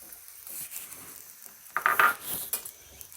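Chopped onions dropped into hot mustard oil in a pan, bursting into a loud sizzle that settles into steady frying crackle, with stirring and utensil clinks against the pot.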